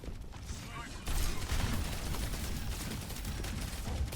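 Gunfire crackles through a competitive shooter video game match in a FACEIT League game, with quieter shots that then become a sustained burst of rapid firing over the game's ambience, and a voice faintly underneath.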